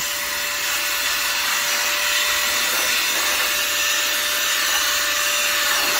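A cordless PC air blower runs continuously, blowing dust out of a computer with a steady, close, high whooshing hiss and no talking.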